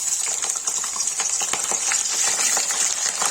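Cauliflower frying in butter and refined oil in a pan, a steady bright hiss with faint scattered crackles and stirring clicks, fairly close and continuous with no talking.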